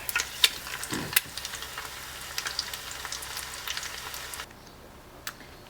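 Egg frying in a pan, a soft steady sizzle with scattered small pops and crackles close by, easing to near quiet toward the end.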